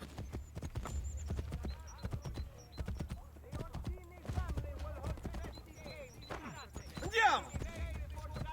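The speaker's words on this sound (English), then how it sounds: "Get on the horse." Horse hooves clip-clop in a steady galloping rhythm in the Assassin's Creed Brotherhood video game, with a neigh near the end, the pounding hoofbeats close and continuous under quiet background sound.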